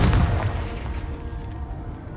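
A Confringo fire spell explodes in Hogwarts Legacy, a single heavy boom with a deep rumbling tail that fades over two seconds, loud and close.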